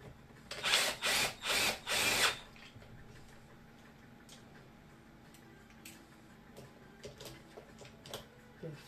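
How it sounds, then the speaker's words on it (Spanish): Short bursts of a power screwdriver driving a screw to fasten a universal front adapter for a bike or scooter, four quick whirring pulses in a row, then quiet with faint clicks and handling noises. "Voy, empiezo a apretar. Atornillo hasta el final."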